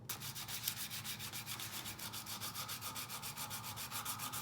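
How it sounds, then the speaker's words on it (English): A wooden screwdriver shaft being hand sanded with sandpaper wrapped around a wooden block, giving a close, steady back-and-forth rasping rhythm of even strokes that repeat alone with no talk. "we're going to start sanding."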